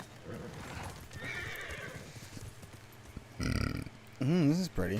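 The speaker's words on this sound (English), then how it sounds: "I'll ride my horse all the way over there so that I can discover some more." Horse in a video game set on Iki Island, hooves clip-clopping at a steady pace, then snorting and a loud whinny close by, with someone talking over the start.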